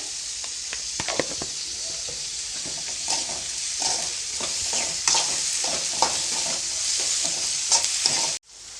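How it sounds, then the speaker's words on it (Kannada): Onions fry with a pinch of salt in a hot pan, producing a steady close sizzle with frequent scraping stirs of a spatula, no voices, cutting off abruptly near the end. "ಇವಾಗ ಈರುಳ್ಳಿನ ಒಂದು ಸ್ವಲ್ಪ ಫ್ರೈ ಮಾಡ್ಕೊಳ್ತೀನಿ"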